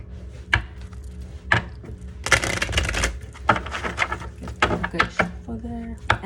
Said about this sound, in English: Good shuffle there.